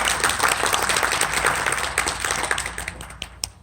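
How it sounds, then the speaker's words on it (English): An audience at a legal seminar in an Islamic centre claps for the presenting attorneys: a short burst of steady applause that tapers off toward the end. "So some applause for the attorneys that have presented."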